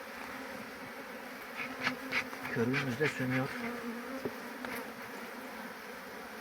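A dense, steady hum of many honeybees buzzing close by, with a voice speaking briefly over it.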